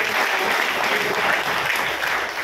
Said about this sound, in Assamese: উত্তম ছাৰৰ কাৰণে এটা জোৰদাৰ হাত চাপৰি কৰি বিচাৰিছে